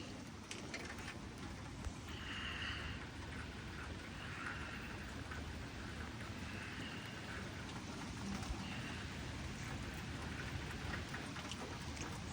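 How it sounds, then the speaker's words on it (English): Steady rain patters and hisses continuously, with a faint low rumble underneath and no voices. "Oh, it's raining."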